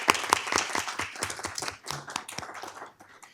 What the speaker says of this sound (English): we just want to give y'all a round of applause